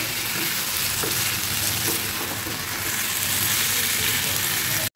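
Spices and cauliflower curry fry hard in a pan, a loud, dense, continuous sizzle close up with stirring underneath, cut off by a brief break just before the end.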